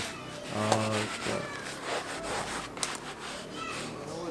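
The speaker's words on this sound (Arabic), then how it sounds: "تتكب الملحه وتبدا تحك بيديك بحال هكا" Hands rub coarse salt into a raw animal hide, making a gritty, scraping friction sound that continues steadily. A voice speaks briefly near the start.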